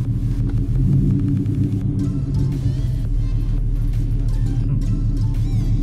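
A boosted Ford Mustang with a manual gearbox rumbles steadily from close by, a deep, loud, continuous engine throb with no speech.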